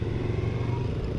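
Yamaha R25 motorcycle with a full-system aftermarket exhaust running, a brief steady low engine drone nearby with no voices.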